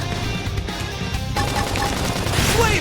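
Sustained gunfire from a battle in Xenoblade Chronicles X: Definitive Edition, a dense loud rattle layered with game music and combat effects.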